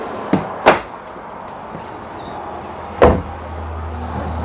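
A full-extension drawer in a 2018 Tiffin Phaeton motorhome slides and knocks shut a few times, sharp short thuds with a brief glide, separated by quiet room tone.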